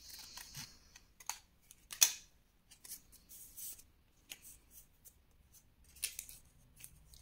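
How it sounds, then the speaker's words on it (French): Scissors snip paper into the corners of a folded scrapbook gift album pocket: a handful of short, sharp, close cuts scattered over several seconds with quiet pauses between. "Je vais couper ici"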